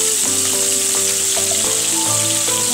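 Thick onion slices sizzle loudly and steadily in a pan, a constant close hiss of frying throughout, joined by soft clinks and bumps.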